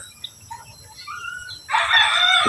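A rooster crows loudly and nearby toward the end, after quieter chirps and clucks over a low background rumble, on a chicken breeding farm in Negros.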